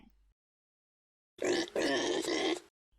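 Piglets give a burst of rough, throaty grunting about a second long, loud and close after a stretch of silence, with no talking.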